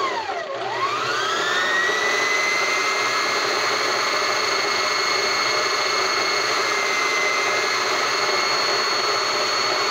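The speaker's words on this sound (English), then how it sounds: "The bobbin is spun." Sewing machine winding a bobbin, a steady high motor whine that rises quickly in pitch at the start and then holds constant and loud throughout.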